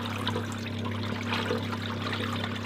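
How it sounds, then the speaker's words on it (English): A kitchen faucet running water in a steady close trickle and splash over a constant low hum, with no talking. "Make that faucet work to the best."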